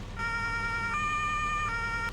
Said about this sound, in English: If you press that, you can change the siren.